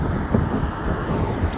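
Strong wind blows at a beach, buffeting the microphone with a steady, loud rumbling roar and no voices.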